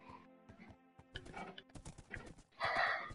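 A horse whinnies, then hooves clatter in quick irregular steps, ending with a loud, drawn-out neigh close by.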